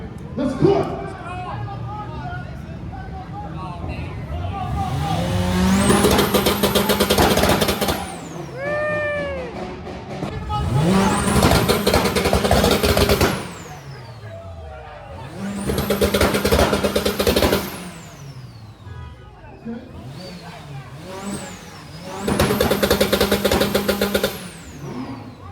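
Cars at a meet, a Honda Civic and a Nissan Skyline among them, revving hard on two-step launch control in four long bursts with rapid popping and crackling between rises, loud and close, with voices talking between pulls.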